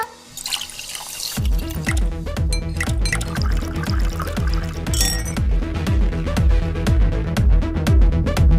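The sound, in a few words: drink being poured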